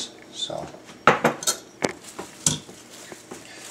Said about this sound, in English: We want to stir that in and make it all homogeneous.